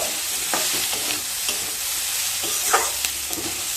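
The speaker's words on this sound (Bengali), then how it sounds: "কয়েক সেকেন্ড একটু পোস্তটাকে ভেজে নিতে হবে" Steady sizzle of poppy seeds frying in a pan with scraping and stirring clicks scattered throughout, close and continuous, no voices.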